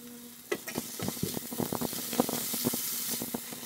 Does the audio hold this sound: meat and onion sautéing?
yes